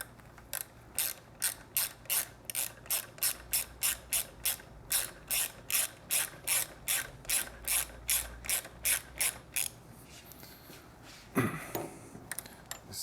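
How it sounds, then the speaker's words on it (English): Rapid, even ratchet clicks from a 12mm ratchet wrench snugging an exhaust nut on a Triumph motorcycle slip-on, about two dozen strokes close up, ending with a brief metallic scrape. "12mm wrench. Snug it up."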